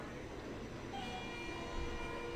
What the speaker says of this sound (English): Train's here.